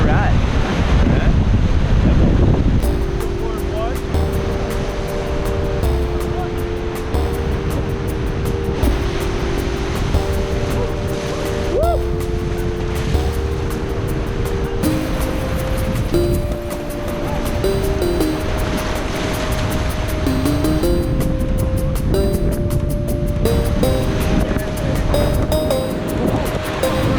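A raft pushes through whitewater rapids on the Kern River in California's Sierras, a loud, continuous roar of rushing water and splashing waves with heavy wind buffeting the microphone throughout.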